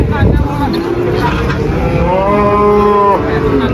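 A Limousin bull or cow gives a long, loud, close moo that rises and holds, over steady outdoor background noise.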